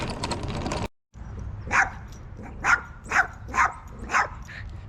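A miniature Australian Shepherd barks five times in an uneven series of sharp, mid-distance barks, preceded by brief background noise.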